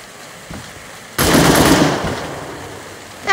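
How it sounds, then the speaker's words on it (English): Rapid automatic fire from a machine gun in the Melon Sandbox zombie game, a loud sustained burst that tails off after a couple of seconds, with a rising whine at the end. "Luckily, this gun fired really fast."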